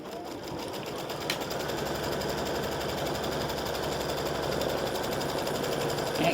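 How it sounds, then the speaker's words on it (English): An embroidery machine stitches a quarter-inch seam to tack down the side panel fabric on a mug rug, with a steady, rapid mechanical chatter running close and unbroken throughout. "color stop number 8 is going to stitch a 1/4 inch seam and tack that fabric down,"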